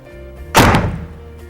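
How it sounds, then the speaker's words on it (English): A HMMWV door slams shut and latches with a single loud, close thunk that quickly dies away. "Make sure the door is completely closed and secured before operating the vehicle."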